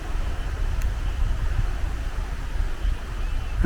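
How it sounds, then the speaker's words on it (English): Strong wind sweeping through a forest on a sunny day, a steady, rumbling roar of gusts and buffeting with no pauses and no voices. "but it is amazingly windy."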